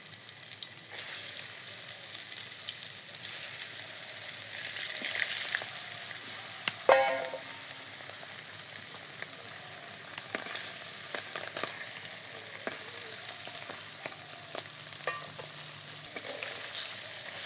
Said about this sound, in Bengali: আমার মাছ ভাজা হয়ে গেছে এখন আমি নামিয়ে নিই